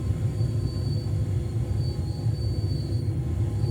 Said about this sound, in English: I'm now going to take the throttle off and I'm going to stop the train now